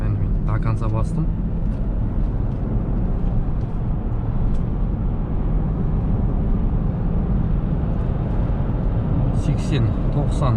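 Inside a Toyota Land Cruiser J200 with a power problem, loaded with computer cargo and driven at full throttle, a loud, steady, low engine and road roar fills the cabin throughout, with brief voices near the start and end.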